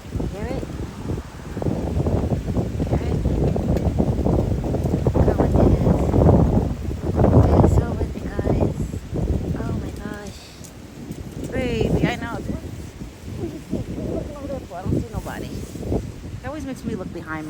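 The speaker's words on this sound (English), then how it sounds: "it's very, very windy outside today. Very windy. You guys are probably going to hear the wind." Strong wind outdoors on an evening, battering the microphone with heavy, continuous roaring gusts that ease briefly midway, while a person talks throughout.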